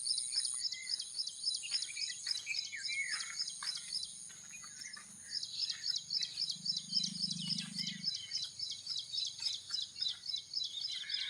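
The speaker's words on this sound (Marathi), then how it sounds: "पाखरांचा आवाज चिव चिव" Small birds chirp rapidly and repeatedly in a steady, high-pitched rhythm throughout, with a soft low hum briefly underneath midway.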